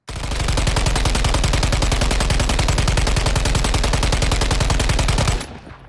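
FN HAMR IAR machine gun in Call of Duty Modern Warfare III fires one long, loud, sustained burst of rapid evenly spaced shots lasting about five seconds, then cuts off into a brief fading tail.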